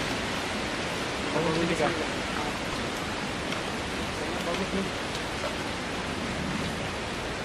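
Strong wind gusting steadily at a campsite where a shelter is being built, a loud broadband roar filling the scene as people talk briefly beneath it.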